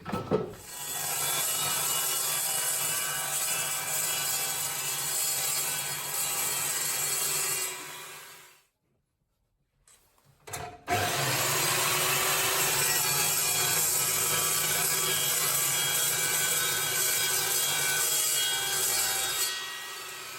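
A power saw cuts through wood in a loud, steady roar, stops for about two seconds of near silence, then starts again and runs evenly to the end.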